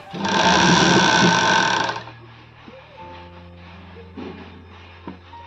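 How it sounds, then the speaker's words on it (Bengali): A sewing machine stitches a readymade sleeveless kurti, running loud and steady for about two seconds before stopping, followed by quieter handling sounds and brief clicks. "কুর্তি দেখুন নিচ থেকে সেলাই দিয়ে উপরে আসছি"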